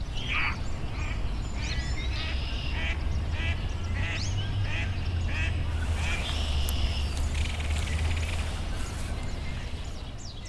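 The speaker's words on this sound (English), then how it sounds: "We heard a mallard duck simply quacking away." Repeated duck quacks in short raspy bursts, moderately close, over a constant low rumble of outdoor background noise.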